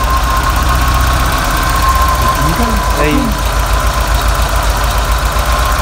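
A Ford Scorpio engine idles steadily and close by, its low continuous hum running under a person speaking.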